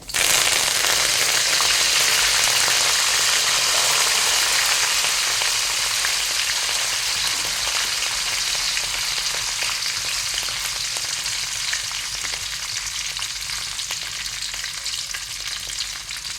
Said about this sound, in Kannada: ಈಗ ಬೇವಿನ ಸೊಪ್ಪು ತಗೊಂಡಿದ್ದೇನೆ ಚೆನ್ನಾಗಿ ತೊಳೆದಿಟ್ಕೊಂಡಿದ್ದೇನೆ ಅದನ್ನು ಹಾಕ್ತಿದ್ದೇನೆ